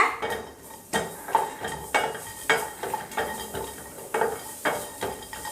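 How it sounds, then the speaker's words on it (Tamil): Peanuts and grated coconut dry-roasting in a pan over a low flame for a Tamil brinjal gravy, heard as repeated close scrapes and clinks of a spatula against the pan in an uneven stirring rhythm, with no one talking. "அதில் 3 டேபிள் ஸ்பூன் வேர்க்கடலை, 1/2 கப் தேங்காய் ரெண்டுத்தையும் சேர்த்துட்டு நல்லா வறுத்துடலாம்."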